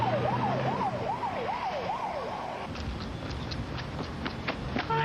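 A rescue vehicle siren wails in a rapid rising-and-falling cycle, loud and close over road noise, then cuts off partway through, leaving traffic rumble and a few short tones.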